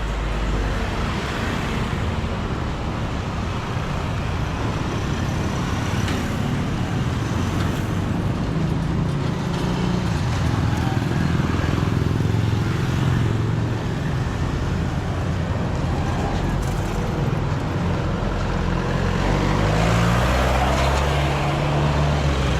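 Tricycles and other traffic run along a busy street in Gagalangin, Tondo, Manila, a steady loud wash of engine rumble and road noise with vehicles passing close by.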